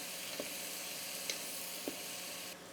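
Julienned carrots hit a hot pan and sizzle steadily, a close, even hiss with a few faint knocks of stirring.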